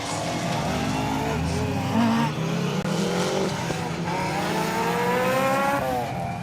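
A Ford Escort rally car races hard through a forest stage, its engine note rising and falling through gear changes as it charges past, loud and close with a brief tyre scrabble.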